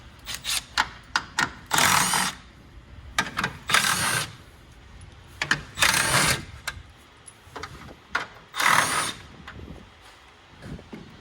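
A power tool removes 10mm bolts from the grille of a 2014 Ram 3500, with repeated short bursts of whirring spaced by pauses, loud and close, no talking.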